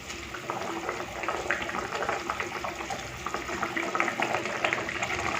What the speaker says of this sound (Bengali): এখানে ঝোলটা ফুটে উঠেছে